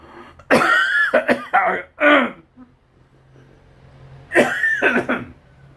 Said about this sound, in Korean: 어제부터 기침이 좀 나옵니다